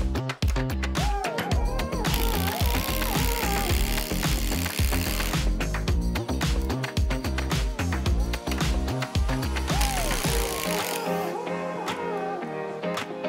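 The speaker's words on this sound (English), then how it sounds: "We have our Milwaukee Fuel Gen 3. It's on speed 3, and it has a fully charged M18 high output battery." A Milwaukee M18 Fuel Gen 3 impact driver set to speed 3, on a fully charged high output battery, gives a loud, continuous rapid hammering rattle with brief dips. It ends in a shorter, quieter stretch.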